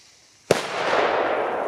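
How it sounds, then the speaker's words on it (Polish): A TP2 SFA300 firecracker goes off in one sharp, loud blast, followed by a long, hissing, crackling decay that lasts over a second. "Głośna, fajna petardka."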